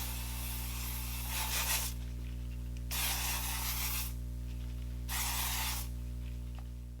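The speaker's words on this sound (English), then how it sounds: "when you spray out, sometimes it kind of spits on you a little bit" JMSolution makeup setting spray with SPF is misted onto a face in three long, steady hissing bursts separated by short pauses, close and loud over a constant low electrical hum.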